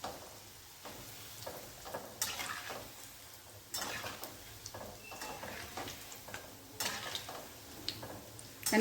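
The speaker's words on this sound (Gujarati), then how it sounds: "અને આવી રીતે પલટાવીને આપણે તળી લેવાની છે." Rajasthani bafla baati frying in hot oil and being turned over, a steady close sizzle with scattered clinks and scraping taps from the utensil, no voices.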